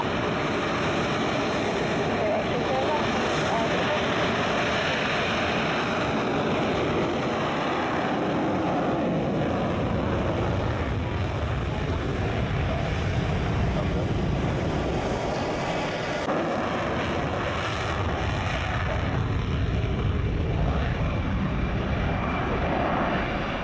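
Two Rafale fighter jets departing, a loud continuous broadband engine roar that fills the whole stretch, swelling slightly near the end, with no talk over it.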